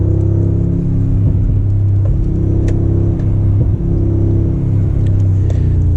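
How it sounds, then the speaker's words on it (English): A Mercedes G63 AMG SUV accelerating hard through side-pipe exhausts, a loud continuous deep engine rumble and drone heard from inside, steady throughout with no talk. "you can really hear it from the side pipes. The exhaust is a whole new level."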